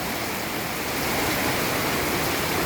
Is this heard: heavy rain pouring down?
yes